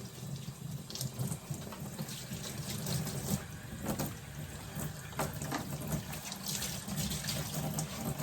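Water runs steadily through a semi-hydroponic plant pot filled with Leca, a continuous close splashing flush with no talk over it.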